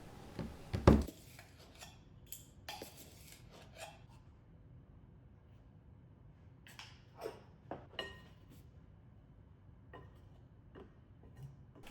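A spoon stirs flour, sugar, baking powder and salt in a bowl, giving faint, scattered clinks and light scraping taps, with one louder knock near the start and quiet pauses between.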